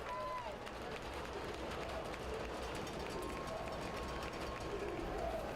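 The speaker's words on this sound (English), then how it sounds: "Crowd making noise." A high school football crowd at the Riverview Rams versus Clearwater Knights game roars on a tense fourth down, a broad, distant wash of cheering and noise that holds steady throughout with no single voice standing out.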